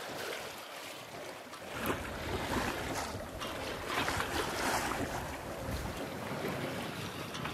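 A sailboat's engine drones steadily as it motors at sea, mixed with rushing wind and splashing waves, loud and continuous with no voices.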